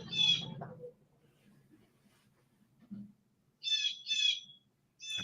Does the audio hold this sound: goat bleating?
no